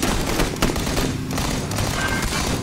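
Rapid bursts of gunfire in PlayerUnknown's Battlegrounds, dense overlapping shots in a continuous fusillade across the whole stretch, loud and close.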